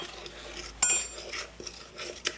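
A spoon clinks and scrapes against a bowl while stirring a dry mix of flour, baking powder and salt, giving a few sharp metallic chinks between soft scraping, close and fairly quiet.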